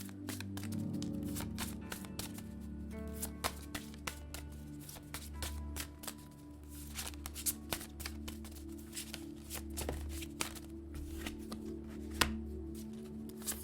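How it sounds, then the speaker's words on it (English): Cards riffled and shuffled repeatedly, a crisp, busy flutter of snaps close by with a steady low hum underneath. "I'm going to shuffle the deck"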